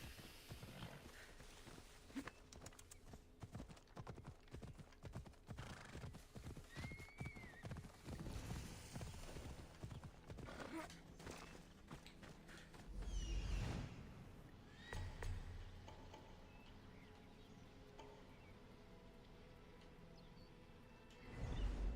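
Horse hooves clip-clop along steadily in Assassin's Creed Odyssey, with a whinny breaking through, all set against a busy game soundscape of ambience and effects.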